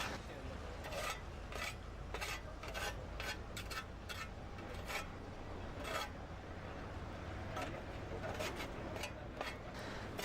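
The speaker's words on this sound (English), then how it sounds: "Next, the excess concrete is removed with a trowel." A trowel scrapes excess concrete off a mold while casting a pile cap, giving repeated gritty rasping strokes in an uneven rhythm, faint and close.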